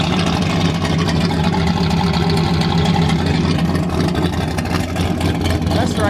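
A turbocharged Ford Mustang engine idles steadily just after its first start, a loud, close, continuous low rumble that never lets up.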